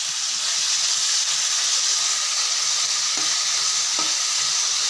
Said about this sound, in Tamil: வெள்ளை உளுந்து போட்டு பாருங்கள். இது நல்லா வதங்கினதும் செம்ம டேஸ்ட்டாக இருக்கும்.